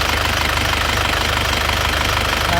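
An Isuzu Panther 2001 diesel engine runs loudly and continuously during a test drive on a hilly road, with a steady rhythmic knocking rumble and no breaks, close to the listener.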